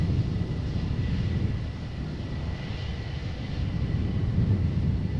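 Airliner rolling out after a crosswind landing at Amsterdam Schiphol Airport, a steady distant jet rumble with a faint whine, continuous and even throughout.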